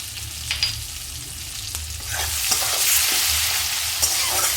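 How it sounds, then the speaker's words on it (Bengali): Tomatoes for a pabda fish curry fry in a pan with a constant close sizzle, broken by soft spatula stirs and scrapes. "আমি টমেটোটা একদম গলে যাওয়া অবধি ভাজতে থাকবো।"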